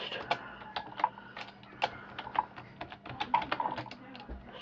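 Fingers tap out a short word on a computer keyboard, a quick run of close, crisp keystrokes with small pauses between them.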